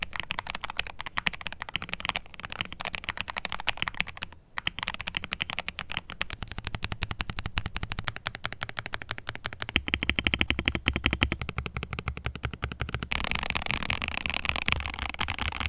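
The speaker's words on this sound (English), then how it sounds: "Here's how they sound." Fast, dense typing on an Epomaker HE68 Lite 65% wired magnetic mechanical keyboard produces a continuous clatter of crisp keystrokes, with a brief pause partway through.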